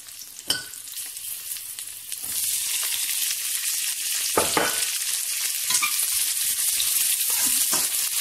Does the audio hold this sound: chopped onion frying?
yes